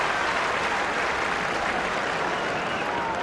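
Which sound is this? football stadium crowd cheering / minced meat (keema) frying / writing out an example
football stadium crowd cheering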